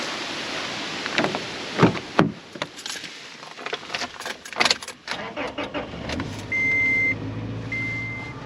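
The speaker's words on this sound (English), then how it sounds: "I'm gonna go home and get the truck and bring the truck down" A truck is started and driven during a powerful tropical storm on Cape Cod: clicks and a jangle, then a steady engine and broadband wash with a short repeating electronic chime near the end, all close by.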